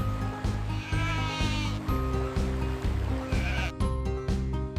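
Sheep on a farm bleat repeatedly in quavering calls, mixed with rhythmic background music, loud and near for the whole stretch.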